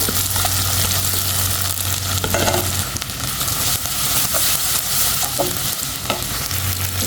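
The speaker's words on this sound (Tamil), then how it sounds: "பூண்டு வெங்காயம் கருவேப்பிலை பச்சை மிளகாய் இதெல்லாம் போட்டு நல்லா வதக்குங்க" Garlic, onion, curry leaves and green chillies sautéed in a pan for Tamil fish kuzhambu, a constant loud sizzle with a spoon steadily stirring and scraping through it.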